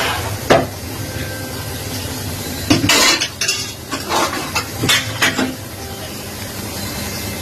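Pots and metal utensils clank and scrape while a large batch of meat biryani is cooked for distribution, with several sharp, close knocks over a steady kitchen background.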